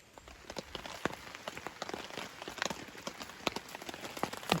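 Rain pattering in dense New Zealand bush, a soft, steady scatter of drops tapping on leaves and ground with irregular sharper hits, fairly quiet and close, no voices.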